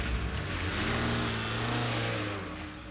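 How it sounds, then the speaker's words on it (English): Sound effect of a car starting up and speeding off: a loud, close engine rumble revs and builds, then slowly fades as it pulls away. "started up his car, and sped off"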